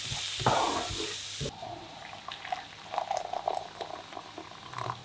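Vegetables soften in a pot for a beef-stock soup, giving a steady close bubbling and simmer with soft irregular pops. A louder burst of clatter or stirring comes at the start.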